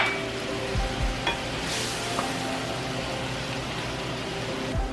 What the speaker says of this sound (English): So we're just gonna let it boil for a little bit.